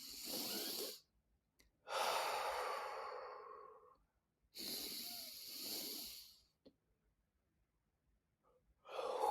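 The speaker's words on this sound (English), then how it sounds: "let's take 3 grounding breaths together" Slow, deep breathing during a guided grounding meditation: three long breaths, each a drawn-out inhale and a sighing exhale, close and soft, separated by short silences, with no talking.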